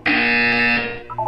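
A loud electronic buzzer from the Portal 2 video game sounds once as a steady harsh tone lasting about a second, then cuts off, followed by a short faint tonal blip.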